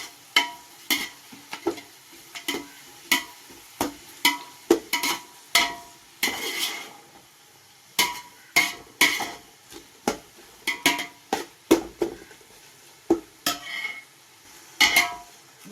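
Sliced onions sauté in oil in a pot for dum biryani, with repeated scraping and stirring strokes of a spatula against the pan in an uneven rhythm, close and clear, with a soft sizzle underneath and no talking.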